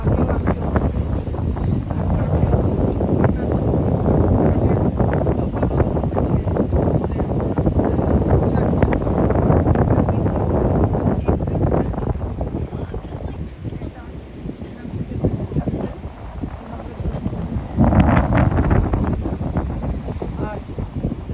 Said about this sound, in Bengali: আর খুব হাওয়া, এটা একটা সমস্যা বটে